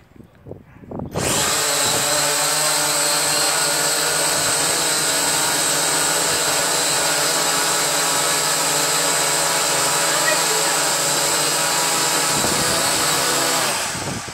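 A ZYMA X8 quadcopter hovers close over a campfire to fan it, its propellers producing a loud, constant high-pitched whine and rushing drone that starts abruptly and holds steady for over twelve seconds, with no talking.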